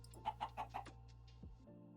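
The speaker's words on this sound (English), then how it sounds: "Oh, we have a snowball chicken." A snowball chicken in the Minecraft StoneBlock modpack clucks four quick times in a row, close and clear, followed by a short fading trail of quieter game sounds.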